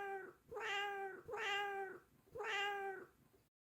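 Three clear, close meows from a cat follow one another at a steady pace, each one long and plaintive, with no other sound behind them.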